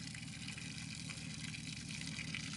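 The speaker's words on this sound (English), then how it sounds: "It's coming out of the bilge as well." Water pours steadily out of the bilge of a Sea-Doo boat, a continuous close gushing and splashing that holds at an even level throughout with no talk.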